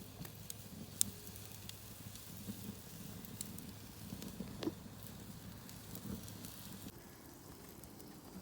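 A flipped tri-tip sizzles with a faint, even hiss and occasional soft pops and crackles, steady throughout with no talking.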